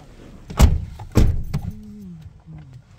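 Two solid thumps of a car door being shut as people climb in, then a faint rising hum that may be the engine or a passing vehicle, with slight rustling between.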